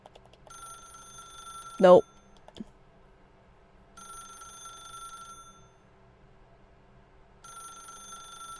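Electronic telephone ring in the video game The Stanley Parable, a bright trilling tone in three bursts with gaps between them; someone briefly speaks over the start and a loud thump follows.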